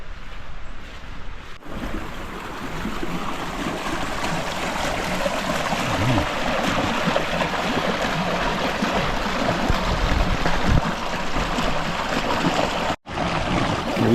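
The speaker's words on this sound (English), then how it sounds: "you can hear the creek to my right" Creek water rushes steadily through a shaded canyon trail in Tahquitz Canyon, Palm Springs, a close, continuous broadband wash that fills the whole stretch with brief dropouts near the start and end.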